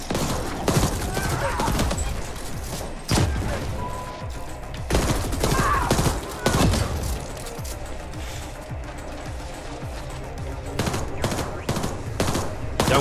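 Rapid turret gunfire bursts in The Ascent, a sci-fi shooter video game, crackling in dense volleys with brief pauses, mixed with game effects and occasional talking.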